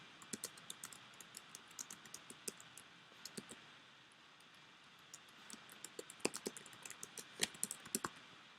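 Quiet, irregular clicking of keys on a computer keyboard, with short bursts of typing separated by pauses; a low room hiss sits underneath and there is no talking.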